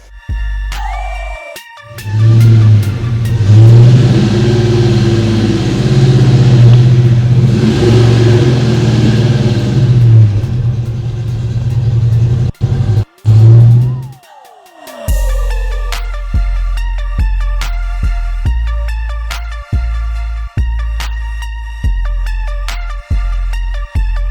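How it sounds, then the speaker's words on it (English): A Ford Mustang Foxbody starts and idles, then rumbles loudly under sustained acceleration, cuts out briefly, and finishes with a series of sharp, rhythmic revs close to the microphone. "I wanna take the Mustang for one last drive in its current configuration"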